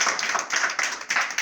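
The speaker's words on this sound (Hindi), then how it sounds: "वेरी गुड, ताली बजाओ सब।" A group claps hands together in brisk, rhythmic bursts, loud and close, filling the whole short moment with a steady patter of applause.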